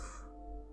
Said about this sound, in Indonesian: Suara kayak gitu, suara gagak.